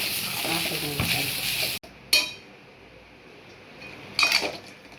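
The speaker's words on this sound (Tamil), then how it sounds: "இப்போ வதங்கிடுச்சு இதை வந்து இப்படி சாப்பாட்டில் போட்டு கலக்கலாம்" Sautéed coconut tempering being stirred into cooked rice for coconut rice: steady frying crackle and scraping at first, then a sharp break, with brief clinks of a spoon against the vessel.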